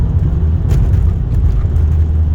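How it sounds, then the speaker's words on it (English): A VW Golf GTI MkV with new racing internals, new intake, turbo pipe and radiator drives at night, giving a loud, steady low engine rumble and drone from inside the car. "The sights and sound of the GTI MkV come alive again with new racing internals, a new intake, a turbocharged pipe, a new radiator"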